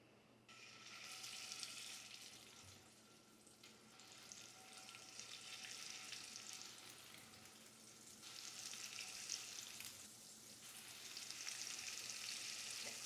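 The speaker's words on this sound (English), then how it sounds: "I want it to sear perfectly." A cod fillet sears presentation side down in a hot pan while making lobster fra diavolo, a faint but continuous crackling sizzle that rises and falls in intensity, with no one talking.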